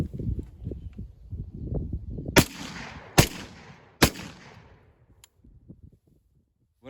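A Panzer shotgun fires three loud, sharp shots about a second apart, each with a short echoing tail outdoors, after some quieter handling and rustling noises.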